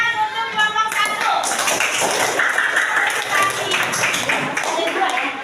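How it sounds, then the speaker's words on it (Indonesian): Children in a classroom clap for group 1, a short spell of brisk, scattered hand claps mixed with chatter and shouting voices nearby. "Ayo, tepuk tangan untuk kelompok 1."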